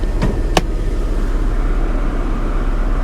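A Mercedes car engine idling with a check-engine light on, a steady low rumble up close throughout, with two brief clicks or knocks near the start.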